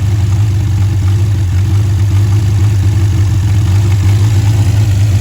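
A 1959 Reliant Regal engine idles steadily on partial choke, a loud close low throb with an even pulsing rhythm and no voices.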